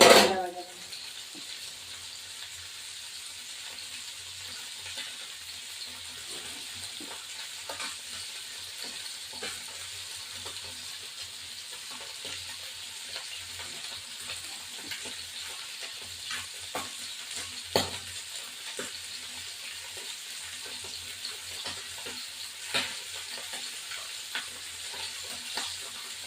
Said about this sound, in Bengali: মাছটা ভাজা হয়ে যাবে।